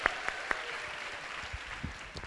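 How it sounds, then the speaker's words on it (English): Audience applause fills a keynote talk on improv comedy after a performer finishes, with a steady wash of clapping and a few sharper claps standing out near the start, moderately faint throughout. "Let's give Sean Lee another round of applause."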